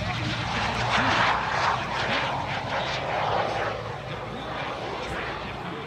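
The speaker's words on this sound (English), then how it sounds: "Such a high-speed, low-level aerobatic sequence." A propeller aerobatic airplane performs a high-speed, low-level sequence at an airshow in New Jersey, its engine drone steady and fairly loud across the whole clip with crowd and wind noise beneath.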